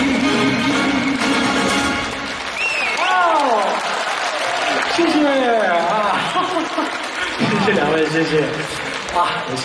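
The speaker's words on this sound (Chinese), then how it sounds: "谢谢各位的掌声啊！" Concert audience applauding in a large hall after a song, with a steady wash of clapping throughout and voices and shouts rising over it.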